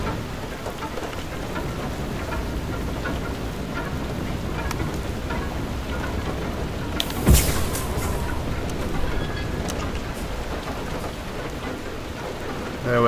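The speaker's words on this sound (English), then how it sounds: "So the hail goes off." Hail and heavy rain pelt down steadily in Far: Lonely Sails, a dense, loud hiss of impacts that lasts throughout, with one sharp crack or thunder-like burst near the middle and no voices.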